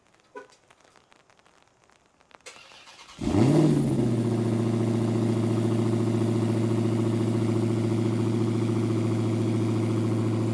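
A Dodge Demon 170 V8 fires up by remote start after some faint quiet sounds, catching with a sharp surge and then settling into a loud, steady, deep idle rumble inside a garage.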